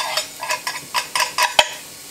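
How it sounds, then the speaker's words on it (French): Sliced shallots frying in a pan and being stirred, with a soft sizzle under a string of short, rhythmic scraping strokes and one sharper clink near the end. "à la place je vais mettre mes échalotes pour les faire dorer un petit peu."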